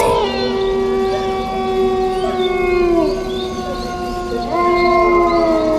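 A wild animal howls in a dark forest at night, a long, loud, wavering wail with sliding pitch that swells, dips and rises again, carrying on continuously without pause.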